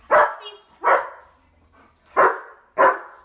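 A dog barks four times in separate sharp bursts, close by, with short quiet gaps between them.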